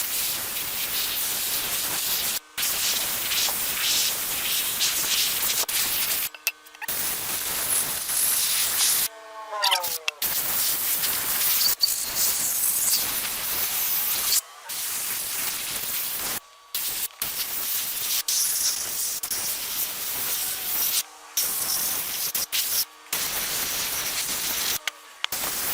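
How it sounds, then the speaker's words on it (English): Compressed air blowing over rusted tools to dry them, loud hissing bursts that run for several seconds each and are separated by short silent gaps. "I like to use compressed air for this"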